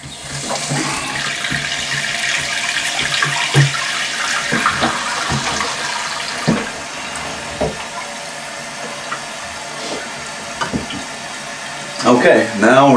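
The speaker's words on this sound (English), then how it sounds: "Now we're going to turn on the water, make sure the level is correct, and then make sure we have no leaks." Water runs into a toilet tank through a newly installed Fluidmaster 400a fill valve, a steady close hiss and trickle with some clunks and handling knocks, and a louder gurgle near the end.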